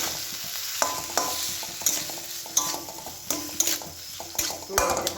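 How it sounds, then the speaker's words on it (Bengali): A spatula scrapes and stirs bean stuffing in a pan over a soft sizzle, with rhythmic strokes about every half second, close and clear, and no talking. "নাড়তে থাকবো"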